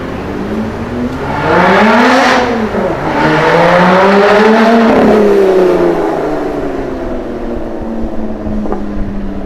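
Lotus Exige Cup 380 in the Need for Speed video game, its engine revving up and down in swelling, rising and falling pitch sweeps, loud and close, before easing off to a steadier drone.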